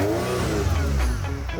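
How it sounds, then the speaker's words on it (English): A Ferrari 308 GTS engine revs hard and steadily, loud and close, its deep mid-range roar rising and holding for a moment with no talk over it. "Ferrari. Yeah, 308 GTS. That's the sound."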